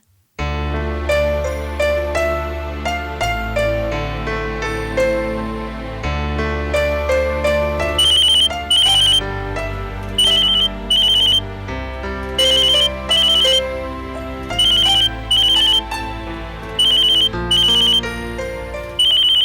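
A telephone rings during an outgoing call in a Tamil TV serial, with repeated electronic ringing bursts in a steady pulsed pattern layered over melodic background music, loud and close.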